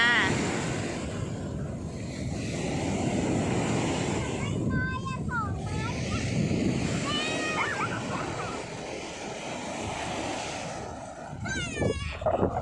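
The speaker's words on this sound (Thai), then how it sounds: "เห็นไหม น้ำก็ซัดขึ้นมา" Sea waves wash up a beach in a steady surging roar, with wind buffeting the microphone and brief voices of children breaking through now and then.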